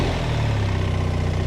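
A BMW R 1300 GSA motorcycle engine catches and settles into a loud, close, even idle with a low throbbing pulse, heard alone without talk.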